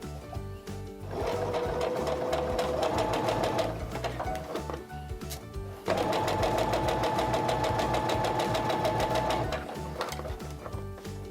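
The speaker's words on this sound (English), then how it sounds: "I'm going to go ahead and start sewing." Sewing machine stitching quilt binding in two steady, fast mechanical runs with a brief pause between them, close and clear with a rhythmic whirring chatter and no talk.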